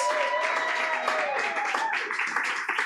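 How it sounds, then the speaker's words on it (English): Audience applause at the Southern California Poetry Festival, a steady wash of many hands clapping close by for the full stretch, with a few voices mixed in. "One more round of applause for Lee and for all of our poets."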